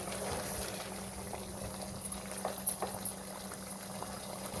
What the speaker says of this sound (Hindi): जी वीवर्स, ये देखें, बहुत ज़बरदस्त तरीके से कुक हो रहा है।